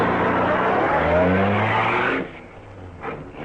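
In a radio drama effect, a car engine revs and roars at speed with a rising whine. It cuts off abruptly after about two seconds, leaving a quieter, brief skid-like scrape behind.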